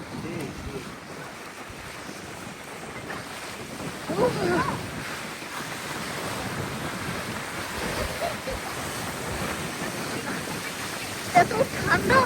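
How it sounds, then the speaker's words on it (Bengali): Sea waves heard from aboard a fishing trawler on a cold, windy day at high tide, a continuous wash of water and wind rumble with swells rising and falling, and voices faintly in the background. "এত ঢেউ আজকে পানির ভিতরে।"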